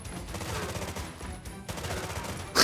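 Gunfire from a weapon in The F Files (Hayarigami 2) comes as a dense, steady stream of rapid shots. A loud burst lands at the end. No one talks.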